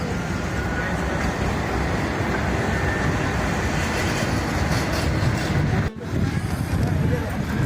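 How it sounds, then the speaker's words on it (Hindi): A tram passing through Grand Bazaar station in Istanbul, a loud continuous rumble with rolling wheel noise on rails amid street bustle. "यहाँ पे ट्राम्स आ रही हैं और जा रही हैं"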